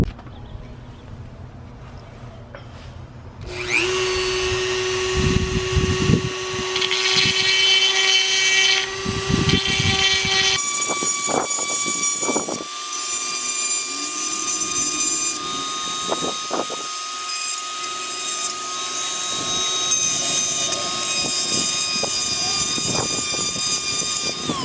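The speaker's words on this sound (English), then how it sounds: "So I have my trusty Dremel right here, and we're gonna see if I can use a diamond engraving bit to open this hole up" A Dremel rotary tool with a diamond engraving bit is used to enlarge a hole in a part for a Honda generator wheel kit. After a quiet start it spins up to a loud, high-pitched whine that shifts in pitch, with repeated grinding bursts as the bit bites into the material.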